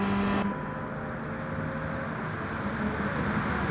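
A Peugeot race car's engine drones steadily in a racing game, a close continuous hum with a brief tonal whine at the start.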